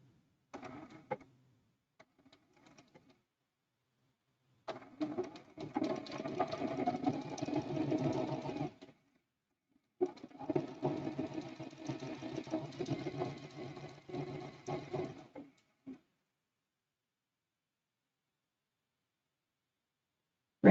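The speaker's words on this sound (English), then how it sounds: "All right, so we're sewing this first seam" A sewing machine stitches the first seam of a Christmas quilt block in two steady runs of about five seconds each, separated by a short pause, with a few faint handling clicks before the first run.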